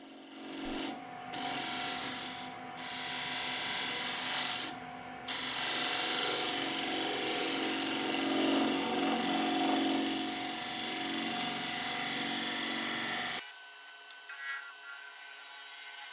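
A scraper rides against the spinning edge of a curly maple plate on a woodturning lathe, a steady close raspy scraping with tonal hum, briefly interrupted twice early on, stopping near the end to leave quieter lathe whine.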